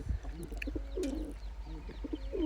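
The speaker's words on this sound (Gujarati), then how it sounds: "અંદર જોયું ને તો એક ક્યુટ એવું કપલ બેઠું હતું કબૂતરનું।" A pair of pigeons coo softly and repeatedly inside a soybean storehouse, their low rolling calls close and rhythmic over a quiet hum.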